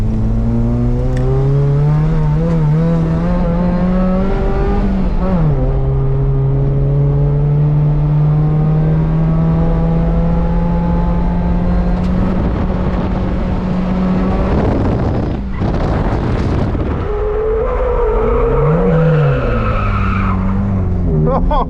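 A 130whp Volvo 740 wagon drives hard and drifts, with a loud sustained engine note rising and falling through gear changes, tires squealing and skidding in bursts, and a voice talking briefly over it.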